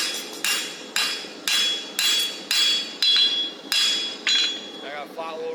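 Hammer striking a hot rivet while forging hot-fitted tongs: about eight loud, sharp metallic blows in a steady rhythm, each ringing briefly, close up, with a faint voice near the end.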